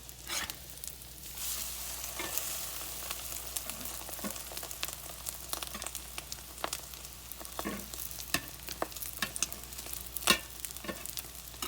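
Rice and eggs fry in a pan with a steady crackling sizzle, broken by frequent sharp scrapes and clicks as a utensil stirs and turns them, close and fairly quiet, with no voices.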